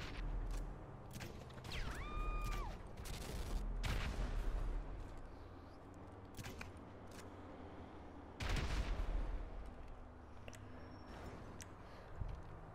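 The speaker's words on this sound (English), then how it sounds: "Shoot from in here." Gunfire in GTA 5 comes as scattered sharp shots and bursts, some close and booming, others farther off, spread across a noisy game scene with brief whistling tones and mechanical clatter between volleys.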